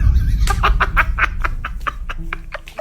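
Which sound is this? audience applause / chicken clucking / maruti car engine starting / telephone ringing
chicken clucking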